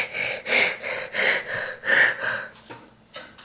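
A voice imitates heavy panting: six quick rhythmic breaths in a row, close and breathy, then a pause and a final gasp.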